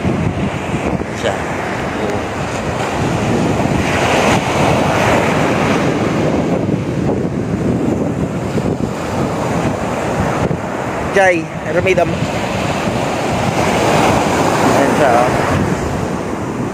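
Sea surf rushes and breaks steadily along a shore as wind buffets the microphone, a continuous loud wash with people talking now and then over it.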